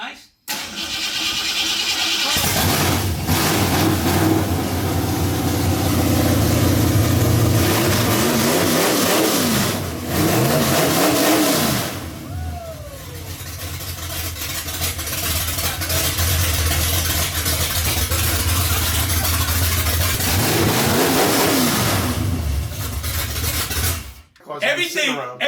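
A wagon's engine cranks and catches in a shop, then idles and revs repeatedly in rising and falling surges, loud and close, with people talking over it before it cuts off.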